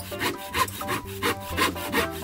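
Hand saw cutting through wood with steady back-and-forth strokes, about five rasping pulses close by, with no talking.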